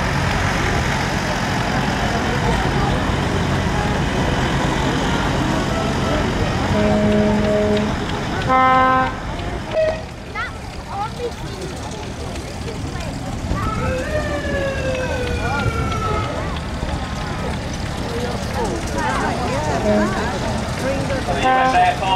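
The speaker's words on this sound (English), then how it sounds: "The US Air Force ambulance there, sounds like it's got a bit of diesel engine in there." A US Air Force ambulance with a diesel engine at a steam and vintage rally idles steadily among crowd noise, with brief horn toots and a siren-like tone, while people talk nearby.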